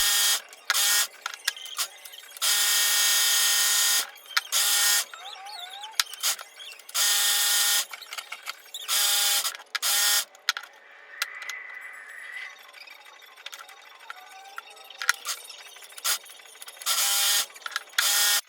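A sewing machine joins braided swimwear elastic to bikini straps, running in loud, close bursts of rapid whirring stitching separated by short pauses, with no talk.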